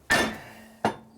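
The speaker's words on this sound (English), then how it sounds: "Take your little hammer here and go whack on it." Two sharp metallic hammer strikes on a steel wedge chisel against the flywheel of a 2001 Indian Scout 88ci engine, spaced under a second apart, each ringing briefly before fading.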